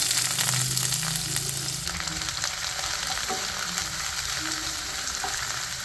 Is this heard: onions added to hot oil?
yes